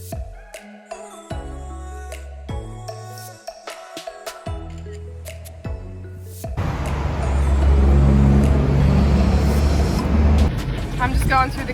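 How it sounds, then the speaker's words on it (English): A car rolls through an automatic car wash, with engine tones shifting at first, then a loud, steady rush of spraying water and brushes surrounding the car. "I'm just going through the car wash."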